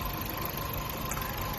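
A Luxgen U6 with a 1.8-litre turbocharged four-cylinder engine, about 49,000 km on it, idles in a brief, steady, even drone with no talking.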